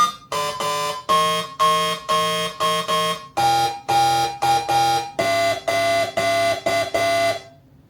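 Moog Slim Phatty synthesizer playing its Transformer preset: a bright, buzzy pulsing tone repeated in short rhythmic stabs, with the pitch stepping down partway through, loud and alone.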